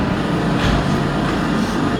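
Steady rumble of a packed passenger train running in the UK, a continuous low mechanical drone with faint rattling, no voices, fairly loud and unbroken throughout.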